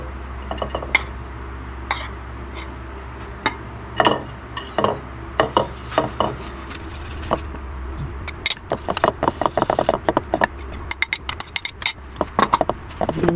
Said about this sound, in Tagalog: Kunin na natin ulit itong liquid. Halo na natin itong powder.